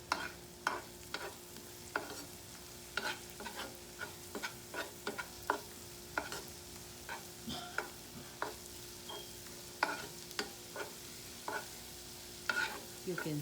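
Garlic paste roasts in melted butter, a faint, low sizzle broken by frequent sharp clicks and taps of a stirring utensil against the pan at an uneven rhythm, with no voices.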